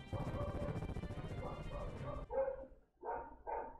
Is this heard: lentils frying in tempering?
no